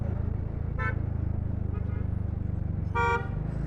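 Horn of a Mahindra Scorpio honking in road traffic, sounding two short blasts spaced a couple of seconds apart, the second louder, over a steady nearby scooter engine hum.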